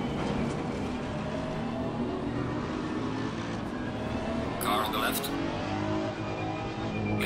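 A GT3 race car engine drones steadily at Spa-Francorchamps in the racing game Assetto Corsa, a continuous close engine note with a brief brighter burst midway, under someone talking.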